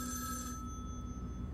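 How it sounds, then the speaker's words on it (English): A telephone bell rings steadily in a video game, a quiet electronic trill that fades partway through and leaves a faint tonal hum over low background noise. "Let's answer the telephone."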